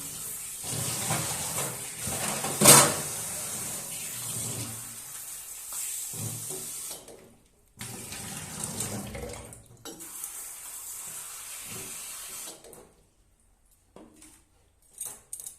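Cut vegetables being washed under a running kitchen tap at a sink: a steady close splash of flowing water that breaks off briefly twice, then stops near the end, leaving faint clinks.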